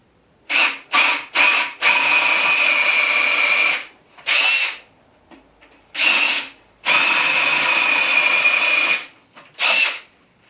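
A power drill bores a hole for a bolt into a workbench built from 4x2 timber and scrap. Several short, loud bursts come first, then longer steady runs with brief pauses between, and no talk.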